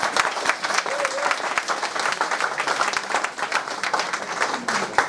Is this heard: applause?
yes